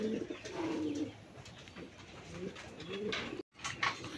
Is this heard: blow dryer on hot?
no